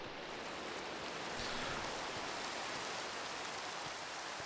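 Steady Minecraft rain hisses as a continuous even wash of noise, soft and constant with no breaks, filling the whole moment without any voices.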